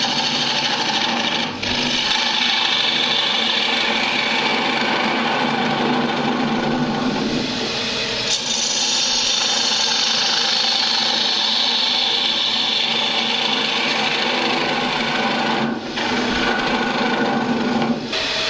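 A bowl gouge cuts down into the bottom of a spinning wooden bowl on a lathe, giving a steady, loud, continuous rasping hiss that holds for the whole stretch with only brief dips, close up and alone.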